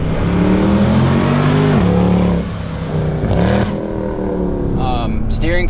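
A Mercedes W204 C63 AMG's engine revs hard while driving, a loud, close, sustained roar that climbs and drops in pitch with gear changes, and a voice speaks over it.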